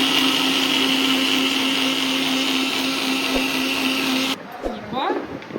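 A mixer grinder grinds pani puri spice water with pepper and cumin powder in a steady, loud whine that runs for about four seconds, then cuts off into short clatter and a little handling.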